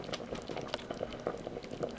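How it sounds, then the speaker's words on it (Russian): Gravy bubbling at a steady boil in a multicooker while stuffed bell peppers with beef mince, rice and vegetables cook, giving a close, continuous crackle of popping bubbles with no voices. "Подлива закипела."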